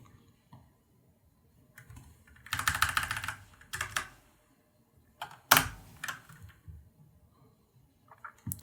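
Photoshop shortcut keys are tapped on a computer keyboard in a few short bursts of close, crisp clicks, separated by quiet pauses and a couple of sharper single key presses.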